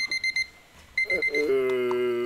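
Electronic timer alarm signalling a break during a virtual coworking session: repeated short high-pitched beeps in quick bursts, then a sustained ringing tone, loud and close with no talk over it.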